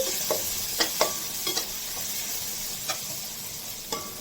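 Fish pieces frying in a pan for a fish curry, a steady sizzle with scattered crackles and a few sharp clicks of stirring, close and alone.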